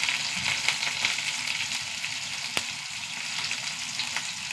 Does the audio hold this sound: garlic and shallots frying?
yes